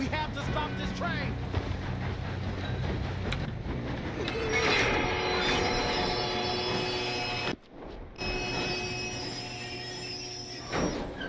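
Train running in Red Dead Redemption 2: a continuous rumble with metallic wheel squeals and rattling cars, a brief drop in the middle, and voices talking over it.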